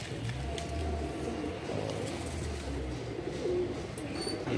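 Madrasi pigeons, a high-flying breed, coo softly in a low, throaty murmur close by, repeating over a steady background hum.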